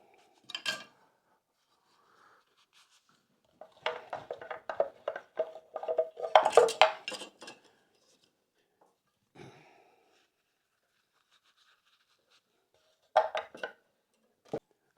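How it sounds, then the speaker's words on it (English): Spoon knives clatter and clink as they are slotted into a small wooden rack made from 1x4 boards, in short separated bursts of close handling noise with quiet gaps between. "I'm going to put these spoon knives in here"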